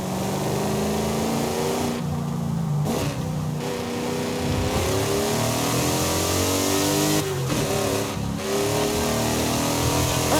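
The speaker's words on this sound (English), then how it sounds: "A few pops and bangs from the side exit exhaust." A car in Forza Horizon 5 revs hard through gear changes, its side exit exhaust letting out a few pops and bangs between throttle blips, loud and continuous with no voices.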